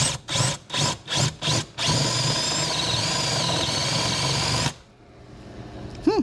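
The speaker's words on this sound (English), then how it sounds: "I got this stepper drill bit" A power drill with a step drill bit drills metal on a 1978 Corvette, buzzing in several short bursts, then running in one long continuous grind before stopping, followed by faint clinks.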